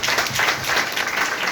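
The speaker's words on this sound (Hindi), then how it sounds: "चलिए आप लोग को एक बार जोरदार तालियों के साथ" Indoor audience applause at a community gathering in Ranchi, a dense, steady burst of many hands clapping together, fairly loud and close, lasting the full moment.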